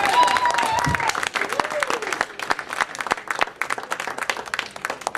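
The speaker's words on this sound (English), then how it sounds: "Please give a loud round of applause to Mr." A comedy club audience claps for a comedian being brought on stage, a brief burst of applause that thins into scattered claps and fades over a few seconds.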